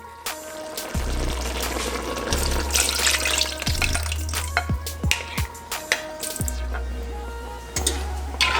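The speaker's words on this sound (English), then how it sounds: "I just add some water to this sauce here and just pour that in" Water pouring into a simmering sauce for Jamaican-style tinned mackerel, a close, continuous splashing and trickling with scattered drips and clinks of a pan or utensil.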